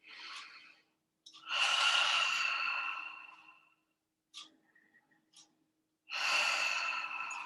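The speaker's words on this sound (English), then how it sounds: "take a couple breaths" Several deep breaths drawn and released during a guided relaxation exercise with palms resting on the thighs: long airy inhales and sighing exhales in a slow rhythm, close and moderately loud, with short pauses between, no talking.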